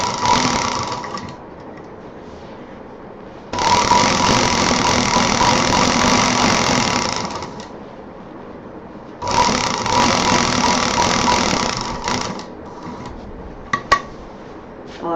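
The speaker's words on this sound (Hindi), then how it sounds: "उसी चौक पर मशीन चलानी है" Sewing machine stitching along chalk lines on fabric for a homemade college bag, running in two long steady bursts of about four and three seconds with quiet pauses between, plus a couple of short clicks near the end.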